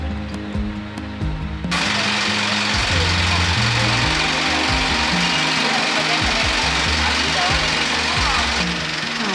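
A ferry's engine drones as the ship approaches Ketapang port, a loud, rhythmic mechanical chugging and knocking that starts abruptly and holds steady, heard from close by.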